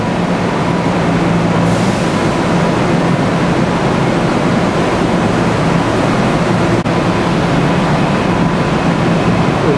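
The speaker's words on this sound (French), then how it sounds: "Un train qui attend. C'est comme la gare de Montpellier, pareil. Ça, c'est la gare de New York." A diesel train waits at a New York train station, its engine giving a loud, constant droning rumble mixed with broad station noise that stays steady throughout, with no voices.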